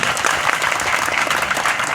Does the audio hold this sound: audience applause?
yes